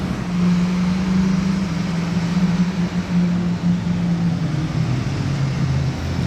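Several Lamborghini Aventador cars arriving in Monaco, a steady loud engine drone with a low sustained tone that slowly falls in pitch, heard without voices.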